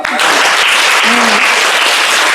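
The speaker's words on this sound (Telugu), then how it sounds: "వీళ్ళ క్లాప్స్ కొట్టండి" An audience claps loudly and steadily for volunteers at a wellbeing session, dense continuous applause filling the whole stretch with no pause.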